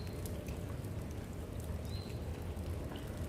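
Steady rain falls in a dense, even patter, a continuous soft wash of drops with no voices.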